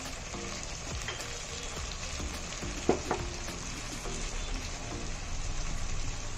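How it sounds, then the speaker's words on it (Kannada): Garlic and onion fry in a pan with a steady, even sizzle, a faint clink of a utensil partway through, with no talking. "ಇದು ಸ್ವಲ್ಪ ಬೆಳ್ಳುಳ್ಳಿ ಈರುಳ್ಳಿ ಎರಡು ಸ್ವಲ್ಪ ಕಲರ್ ಚೇಂಜ್ ಆಗೋವರೆಗೂ ಹುರ್ಕೋಬೇಕು"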